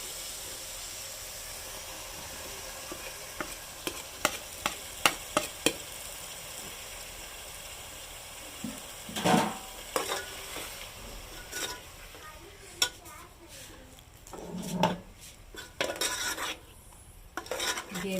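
Chicken mince with masala being stirred in a pan, with faint sizzling under scattered clinks and scrapes of a spoon against the metal, louder stirring bursts toward the end.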